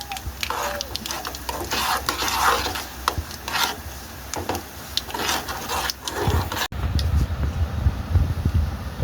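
Dal being stirred in a pan with a spoon, irregular close scraping and rubbing strokes over a faint sizzle, followed by a softer, lower rumbling stretch near the end.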